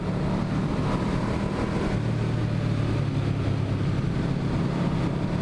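Yamaha V-Max motorcycle with its V4 engine droning steadily and loudly from the rider's position, a constant low roar mixed with wind rush over the microphone.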